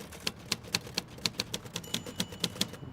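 Typewriter keys are struck in a steady, even rhythm, about a dozen crisp, close keystrokes with no voices.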